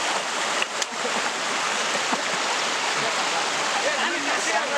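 Water pours steadily at Palakondalu Waterfalls, a broad constant rush with a few brief knocks and a faint voice underneath.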